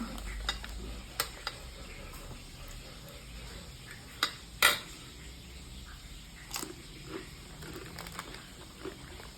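Boneless milkfish (bangus) frying in a pan gives a steady low sizzle, broken by scattered sharp pops and crackles, with one louder burst midway; no one speaks.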